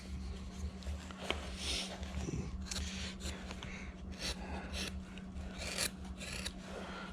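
Steady hand-tool scraping and rasping on wood as a number 5 gouge smooths out carving marks while blocking out a carving, continuous close strokes over a low background hum.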